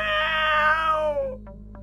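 A cat gives one long, loud, drawn-out meow that falls in pitch, followed by a couple of faint short chirps.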